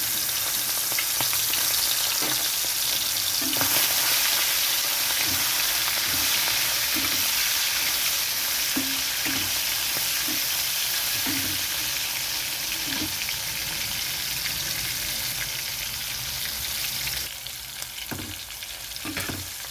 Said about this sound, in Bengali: সর্ষের তেলটা গরম হয়ে গেছে, আমি এখন এখানে চিংড়ি মাছটা দিয়ে দিচ্ছি